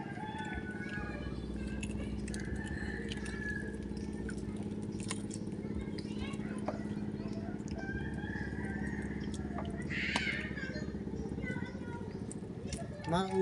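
Chickens cluck and call on a seaside fishing shore, scattered short calls with one louder crow-like burst, heard faintly over a constant low background hum.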